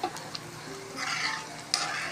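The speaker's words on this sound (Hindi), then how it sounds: "ये देखिए हमारा ये तड़का इस तरह से प्याज होनी चाहिए हमारी" Onions frying in a tadka tempering for Punjabi sarson ka saag, a soft sizzle that swells into a brighter hiss of frying, with light stirring clicks and scrapes in the pan.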